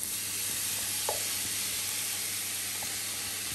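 Chopped onion sizzles steadily in a hot pan during the making of a chicken and mushroom pasta gratin, a constant broad hiss with a brief scrape as the pieces drop in, close and fairly loud.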